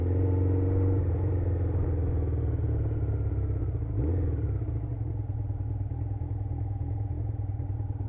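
Motorcycle engine in a video game, a steady low rumble with a shift in pitch near the middle, running continuously at a fairly even level with no talking.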